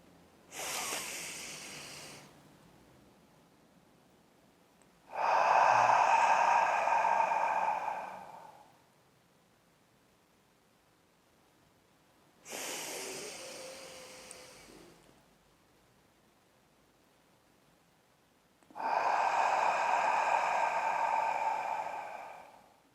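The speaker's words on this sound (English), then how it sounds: "we could be breathing in through our nose and out of our mouth" Box breathing at a slow, even pace: two long, airy inhales through the nose alternate with two fuller, louder exhales through the mouth, each separated by silent holds, close and without speech.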